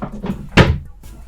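A drawer packed full of items slides open and shut in a home, giving soft scraping rattles followed by one loud, sharp thump midway, then quieter shuffling afterward, with no voices.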